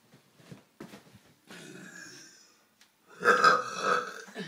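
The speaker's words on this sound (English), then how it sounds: "burp competition number 2" Burps from a burping competition, several short croaky burps followed by a longer, louder drawn-out belch near the end, close to the microphone.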